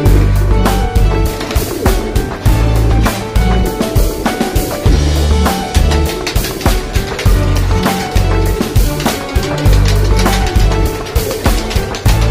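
Many pigeons cooing nearby in a busy flock, low throaty calls overlapping continuously, with wing flaps and scattered chirps mixed in.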